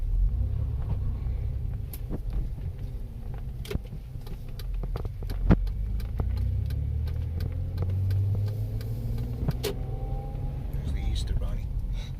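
A 1999 Ford Contour SVT idles steadily after a cold start, its low engine rumble running throughout with scattered clicks and faint handling noises nearby.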